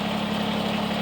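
Steady idling drone of a Kubota BX23S compact tractor engine running just before shutoff, a constant low hum with even vibration, close and fairly loud, with no voices.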